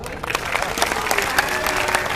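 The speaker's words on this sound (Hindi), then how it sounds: "और अगली पंक्ति पर आपकी तालियां अपने आप उठाएंगी" An audience claps through a Hindi poetry recitation, a dense, steady round of applause with scattered louder hand claps standing out, heard fairly close.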